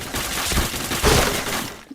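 Rapid gunfire bursts from a first-person shooter game played in a CS-style mode, dense crackling shots running almost continuously for two seconds with a louder volley midway, no talk over them.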